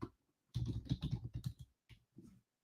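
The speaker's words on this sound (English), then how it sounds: "I'm going to type it in our chat." Fast, close typing on a computer keyboard: a dense run of clicking keystrokes after a brief pause, then a few short separate bursts of keys.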